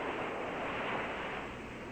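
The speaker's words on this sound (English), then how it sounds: "The waves, how they so rhythmically roll up onto that shore and roll back out to sea." Ocean waves roll onto a shore in a soft, steady hiss of surf that swells and washes back, faint and distant with no other sounds.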